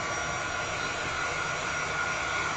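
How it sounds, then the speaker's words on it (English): A hair dryer blowing on hot glue, a steady loud whooshing drone with constant airflow and a faint whine, unbroken for the whole stretch with no speech. "now I'm just going to take my dryer and I'm going to hold it back"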